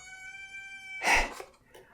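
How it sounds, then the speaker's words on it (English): A pet cat gives one short, close meow over a steady tonal hum in the room. "my cat wants to say hello"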